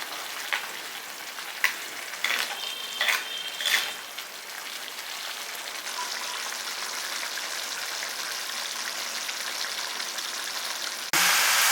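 Tomatoes frying with turmeric powder in a pan make a soft, continuous sizzle with a few stirring clinks early on and a louder burst of crackling at the end.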